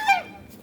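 A single short, nasal goose honk rings out on a poultry farm, close and clear, then fades into quiet background.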